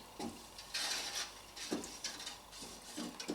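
Spoon stirring plum jam with sugar in a pot, soft scraping sweeps against the bottom repeating every second or so, quiet and close, no talk.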